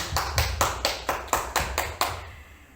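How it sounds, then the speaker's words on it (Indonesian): Audience applause for a speaker at a school teachers' presentation, heard as about eight evenly spaced, sharp claps like a small group clapping in unison, then stopping abruptly. "kita berikan aplaus dulu, tepuk tangan buat beliau"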